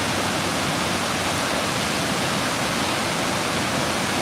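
Storm water from Tropical Storm Calvin thunders through a gap in Hilo, Hawaii, a loud, steady broadband roar of rushing flow that stays constant and close throughout, with no voices.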